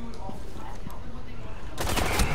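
Video game gunfire in Rainbow Six Siege, with a dense, steady crackle of rapid shots across the whole stretch that grows louder and harsher near the end.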